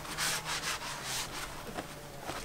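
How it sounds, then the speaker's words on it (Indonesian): A cloth or brush rubs sanding dust off a handmade bonsai pot pillar in a workshop, a close, steady scratchy swishing in quick repeated strokes with no talking. "sebelum kita cat, kita bersihkan dulu sisa-sisa debu amplas tadi."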